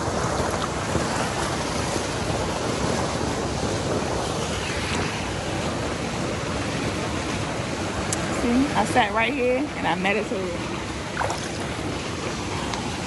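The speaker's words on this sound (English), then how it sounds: "And I was just listening to the water." Water at a resort swimming pool washes steadily in the background, soft and continuous, while someone speaks briefly over it.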